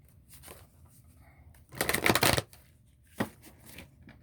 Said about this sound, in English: shuffle these cards here.